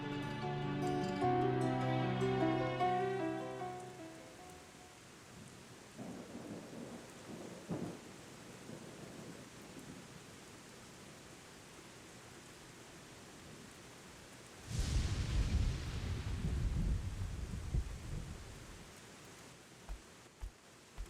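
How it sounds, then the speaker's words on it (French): A thunderstorm with steady rain falling, opening on a long rolling rumble of thunder that fades into the hiss of rain, then a second loud crack and rumble partway through. "Avec cette pluie, je ne peux pas dormir"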